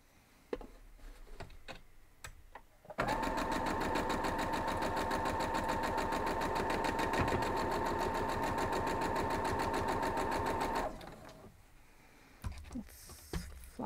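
Sewing machine stitching a quilt block, a rapid even mechanical whir and tick that runs loud and steady for about eight seconds, then stops, with quieter handling noises before and after.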